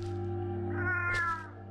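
A cat meows once in the video game Red Town, a short rising-and-falling mewl over a steady low electrical hum, close and clear with no voices.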